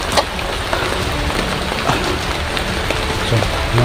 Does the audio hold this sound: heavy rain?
yes